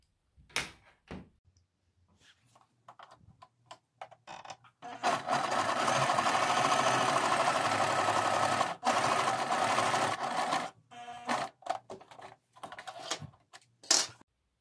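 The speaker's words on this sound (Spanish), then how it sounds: "Esto lo vamos a coser para poderlo fruncir posteriormente." A sewing machine stitches fabric for a coquette bow: a few clicks and handling noises, then a loud, steady mechanical whir of stitching for several seconds, a brief pause, more bursts of sewing, and scattered taps at the end.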